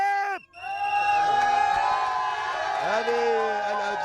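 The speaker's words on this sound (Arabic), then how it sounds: "هذه الأجواء هنا في الحافلة مع الجماهير، وهي الآن متوجهة إلى استاد البيت لحضور مباراة" Moroccan football fans on a bus heading to Al Bayt Stadium raise a loud, continuous crowd chant with whoops and cheers, voices filling the cabin close by after a brief dip at the start.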